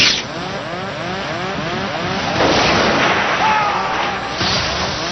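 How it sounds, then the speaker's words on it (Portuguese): Windscreen of a British Airways airliner cockpit bursting in flight, heard as a loud, sustained roaring blast of rushing air and rumble that swells midway and holds for several seconds. "Com uma enorme explosão,"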